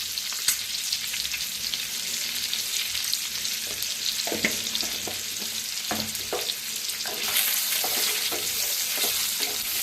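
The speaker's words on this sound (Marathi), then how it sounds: "फ्राय करून घ्यायची अंडी।" Eggs frying with turmeric and red chili masala in a pan give off a steady, close sizzle, with scraping stir strokes and clicks scattered throughout.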